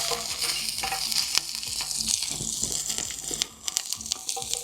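Onions fry in plenty of oil for a village-style fish fry, a loud, continuous sizzle broken by the scrape and clatter of stirring, heard up close.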